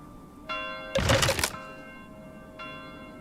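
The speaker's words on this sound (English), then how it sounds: "Because the church bells are ringing, my dude. You can hear them." Church bells chime in the Manor Lords medieval village-building game, three separate ringing strikes with long tonal decay, the middle one louder and joined by a brief dull thud.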